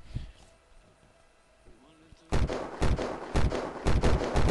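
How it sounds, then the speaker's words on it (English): Gunfire in the video game Unturned during a raid, a rapid series of loud close shots firing in bursts after a quiet stretch with faint background sounds. "Alright, start shooting, boys."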